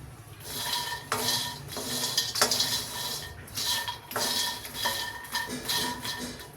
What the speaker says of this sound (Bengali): একদম চুলা আস্তে করে দিয়ে আমি ভাজছি